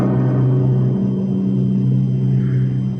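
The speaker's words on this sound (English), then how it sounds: "watched the cloud of dust grow larger and heard the approaching thunder of horses' hooves" Radio drama sound effect of approaching horses' hooves, a loud, steady low rumble that holds continuously without a break and without speech.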